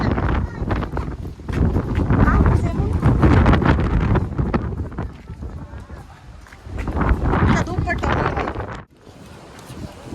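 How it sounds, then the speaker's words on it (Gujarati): Strong sea wind at a lighthouse in Mahuva, Gujarat, buffets the microphone in loud, rough gusts, with people talking under the roar. "પવન બહુ છે પવનથી પરેશાન છીએ"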